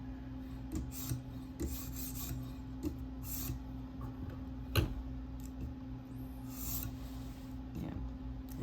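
A K390 steel Spyderco Delica blade is stroked across a stone on a TSProf K03 guided sharpener, making faint, rhythmic rasping swipes with small ticks over a low steady hum, close by and quiet.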